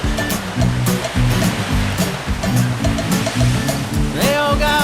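Ocean waves break on a surf beach below a villa, giving a loud, steady wash of roaring surf with rhythmic pulses of crashing water, close and continuous.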